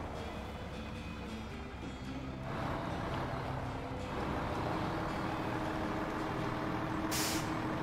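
A heavy truck's engine drones steadily in the SnowRunner game, rising slightly partway through, with a sharp hissing burst of air brakes near the end and no talking.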